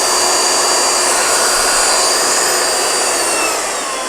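A DeWalt DCW220NT 18V cordless belt sander runs on its slow setting, giving a steady, loud whirring hiss with a faint high whine that holds evenly and eases slightly near the end.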